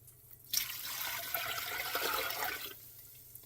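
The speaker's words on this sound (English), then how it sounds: "I'm going to add some water to it to make my broth" Water poured into a big pot on the stove for broth, a steady splashing rush that starts abruptly, runs about two seconds close to the mic and then cuts off, leaving a low hum.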